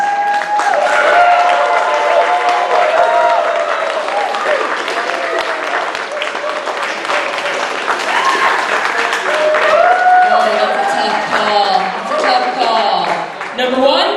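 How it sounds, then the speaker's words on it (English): An audience at a steampunk exhibit event gives loud, sustained applause for a contestant on stage, with cheering and crowd voices blended into the dense clapping. "Pour your heart and soul into the applause."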